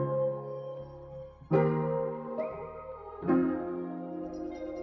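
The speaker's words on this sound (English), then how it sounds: "the reverse vocal sounds like this" A reversed vocal sample with the low end cut and delay added, smooth swelling tones rising into three distinct re-attacks with trailing echoes, played alone without talk.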